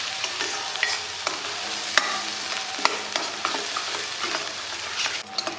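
Ground masala paste sautéed in a pan for katachi amti, a dense steady sizzle with frequent sharp spoon clicks and scrapes as it is stirred, close and alone.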